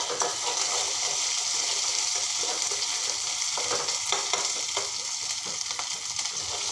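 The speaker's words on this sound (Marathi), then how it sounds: "लसणाची पेस्ट घालते व थोडं ओलं खोबरं घालते भाजीला आणखी छान टेस्ट येते हे सर्व असं तेल सुटेपर्यंत आपण परतणार आहोत" Garlic paste and grated fresh coconut sauté in hot oil for a cluster bean vegetable dish, a loud, steady, close sizzle with soft stirring scrapes throughout.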